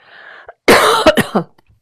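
A single sharp cough up close, breaking into a few rough bursts, after a brief faint murmur.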